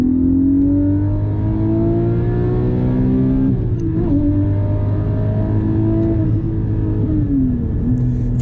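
A Porsche 718 Cayman GT4 with a manual gearbox revs under driving, its engine note rising and falling through several gear changes and throttle blips, loud and close from inside the cabin without talk.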